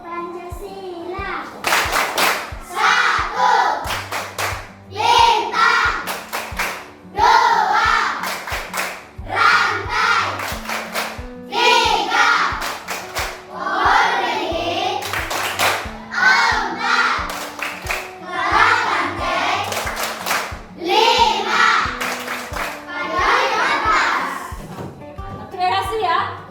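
Children clap the Tepuk Pancasila chant in a classroom ice-breaking activity, following a teacher's lead in patterned bursts of rhythmic hand claps with shouted chanting and talk mixed throughout.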